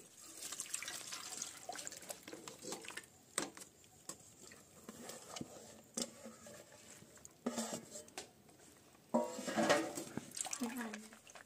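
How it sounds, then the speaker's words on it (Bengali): Water draining and pouring off soaked, cooled raw potato slices for homemade chips, splashing and trickling in bursts with drips between, close and moderately loud, with some talk mixed in. "এবার আমি আলুর যে জলটাকে আলাদা করে দেব।"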